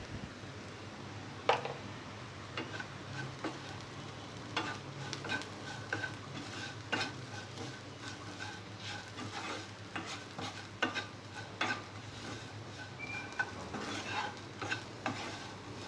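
Potato pieces frying in a pan with a soft continuous sizzle, broken by repeated scraping stirs of a spoon against the pan at an uneven pace, quiet and close.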